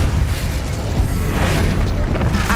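Dense, continuous magical blasts and booming bursts from combat spells in Hogwarts Legacy, a steady loud rumble of overlapping impacts with no clear gaps, heavy low-end throughout.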